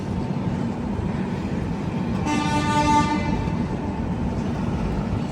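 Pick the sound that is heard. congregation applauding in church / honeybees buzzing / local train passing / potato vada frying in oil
local train passing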